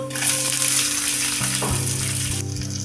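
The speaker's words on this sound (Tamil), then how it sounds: "வெங்காயம் நல்லா வதங்கட்டும்" Urad dal and chopped onion fry in hot oil in a pan, giving a loud, continuous sizzle with a steady crackling hiss and some brief stirring clatter along the way.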